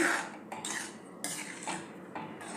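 A spoon stirs rice kheer with milk in a metal pot, giving close, rhythmic scraping and clinking strokes about every half second with no talking.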